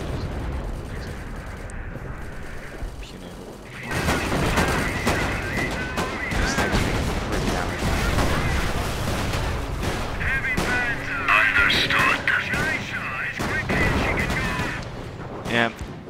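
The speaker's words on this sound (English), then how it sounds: "the field guns are your bane" Heavy field gun artillery fire booms repeatedly in a World War I battle in Company of Heroes, a dense barrage that swells loud after a quieter opening and keeps rumbling with overlapping blasts and scattered gunfire, under occasional talk.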